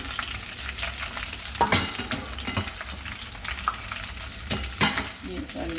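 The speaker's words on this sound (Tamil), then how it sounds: "இன்னும் பொறிக்கட்டும் பீன்ஸ் பொரிஞ்சிட்டு நாங்கள் பீன்ஸ் எடுப்போம்" Beans frying in oil for a fried puttu dish, with steady close sizzling broken by a few sharper bursts of stirring and clatter across about six seconds.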